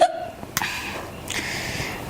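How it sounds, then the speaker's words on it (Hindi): A single sharp hiccup pops out about half a second in, followed by a faint breathy tail over low room noise. "अबे 7 बजते मुझे हिचकियां क्यों आने लग जाती हैं?"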